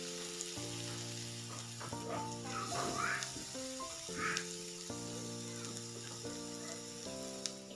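Radish, onions and panch phoron frying in a pan, a steady close sizzle with occasional stirring scrapes, while tonal musical notes play prominently over the cooking throughout.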